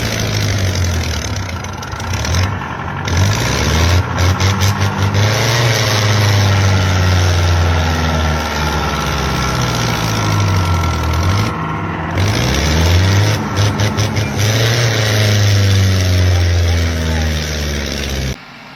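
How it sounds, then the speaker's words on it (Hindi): Heavy truck engine loaded with glue revving and roaring loudly as it descends a slope, with steady rising and falling engine drone and shifting pitch throughout, quite near and continuous. "गोंद से लदा दोपहिया ट्रक इंजन की तेज गर्जना के साथ ढलान से नीचे की ओर तेजी से उतर रहा था।"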